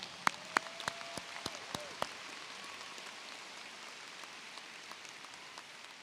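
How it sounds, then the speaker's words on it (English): An audience at a high school commencement ceremony applauds the senior choir after the national anthem, a soft, distant, rain-like patter of many hands with a few sharper claps standing out early before it thins. "please join me in giving the senior choir members another round of applause for their performance of the national anthem."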